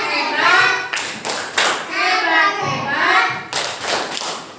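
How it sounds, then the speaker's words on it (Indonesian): Classroom of children giving a group a rhythmic cheer-clap, several loud bursts of clapping in a patterned beat alongside children's chanting voices, close and lively. "coba teman-teman kasih tepuk hebat dulu untuk kelompok 3"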